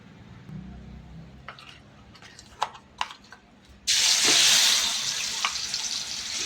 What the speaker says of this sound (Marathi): त्याच कढईमध्ये तेल कमी केलं आणि आपण जे वाटण वाटून घेतलेलं आहे ते वाटण आपण आता ह्याच्यामध्ये